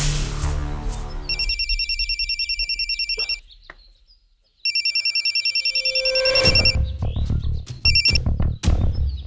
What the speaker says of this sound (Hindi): इंडिया में जो हमारे नेबर है ना, वो भुल्लर अंकल, उनको फोन करके देखिए